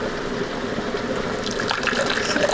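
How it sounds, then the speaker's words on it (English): Water poured into a cooking pot while making vegan meals, a steady close splashing stream that grows louder and brighter toward the end as the pot fills. "280 mils of water, just to make sure that we don't start burning anything on the bottom"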